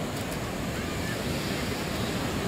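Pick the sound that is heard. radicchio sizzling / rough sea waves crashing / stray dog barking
rough sea waves crashing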